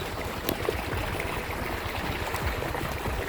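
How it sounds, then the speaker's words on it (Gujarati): Irrigation water pumped by a motor flows steadily into a farm field bed, a continuous close trickling and gurgling wash with no talk. "બીજા કેરામાં પાણી જાય છે, તમે જુઓ"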